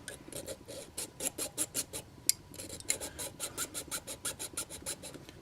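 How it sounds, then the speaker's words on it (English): A small jeweler's saw cuts into a plastic model locomotive shell, a quick series of soft, rhythmic rasping strokes, close and fairly quiet, with a short pause partway through. "I use a small jeweler's saw, and we'll just go in here and I'll lay that blade right in the side."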